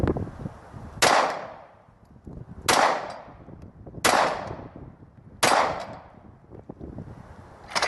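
A Glock 22 pistol fires four evenly spaced shots roughly one and a half seconds apart, each a loud sharp crack with a short ringing tail, no voices.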